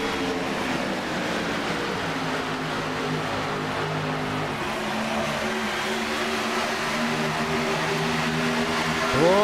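Several Chevy and Ford stock cars race side by side into turn 1 at the Charlotte ROVAL night race in iRacing, their engines a steady, loud, layered drone with a pitch sweep rising at the end.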